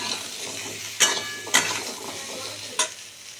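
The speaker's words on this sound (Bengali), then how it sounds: "আলুগুলো একটু ভেজে নেব।" Potatoes sizzle steadily in hot oil in a wok, close and bright, while three distinct clinks of a spatula against the metal punctuate the frying.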